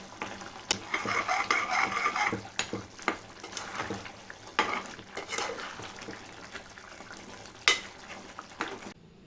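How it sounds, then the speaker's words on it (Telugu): Gongura mutton curry stirred in a cooker pot after coriander and mint leaves go in, with scraping spoon clinks and soft sizzling sounds in a steady close-up rhythm, several sharp metallic knocks standing out. "కొన్ని పుదీనాకులు కూడా వేస్తున్నా దీన్ని ఒకసారి మిక్స్ చేసేద్దాం"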